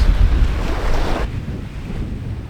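Choppy open sea heard from a sailboat beating upwind between Guadeloupe and Martinique: steady rushing waves and gusting wind noise on the microphone, loud and close, easing slightly partway through.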